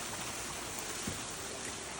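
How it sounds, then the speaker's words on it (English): A mountain stream runs and cascades in a constant, broad, rushing wash of water, steady and fairly close with no pauses. "the stream's getting louder and louder"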